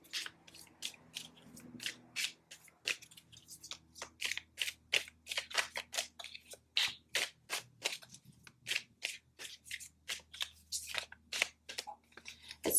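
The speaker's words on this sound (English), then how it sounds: "I'm having like such a hard time shuffling this deck" A deck of tarot cards shuffled by hand, close and quiet, with a long run of short crisp riffling bursts in an uneven rhythm and small gaps between them.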